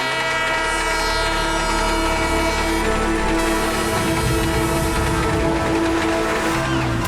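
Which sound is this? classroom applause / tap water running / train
train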